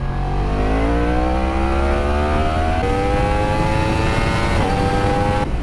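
A high-revving 2016 Yamaha R1 sportbike engine accelerates steadily, its pitch rising through gear changes, loud and close with no voices.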